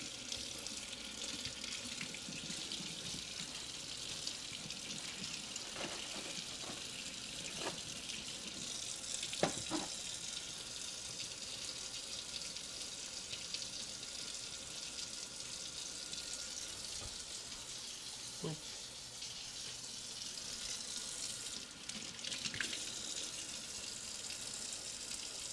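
A kitchen tap runs steadily as food is rinsed in the sink, a soft continuous water hiss with a few light splashes and clinks mid-stream, fairly quiet and without speech.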